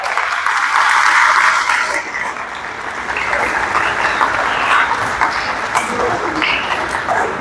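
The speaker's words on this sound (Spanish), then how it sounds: "No sirve de nada el aplauso." Students applauding at the end of a clinical pulmonology lecture, a loud burst of many hands clapping that dips briefly partway through, then carries on with scattered claps and faint voices beneath it.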